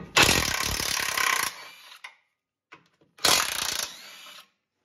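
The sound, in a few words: ratchet wrench removing 14mm bolts from a control arm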